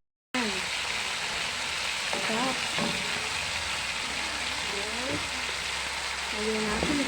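Chicken tossed in a pan for Filipino ginataang manok with papaya, a steady broad frying sizzle filling the whole stretch, with occasional voice-like tones and clatter mixed in underneath.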